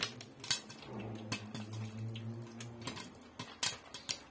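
Caramel popcorn pops inside a covered pot, giving faint, scattered sharp pops and ticks at an uneven rhythm over a low background hum.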